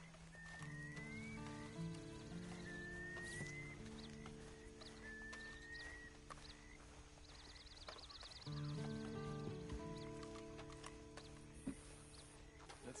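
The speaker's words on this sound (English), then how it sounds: "And you better get on this horse." Horse hooves clip-clop faintly in Red Dead Redemption 2, set under steady in-game music and ambience with occasional bird-like calls.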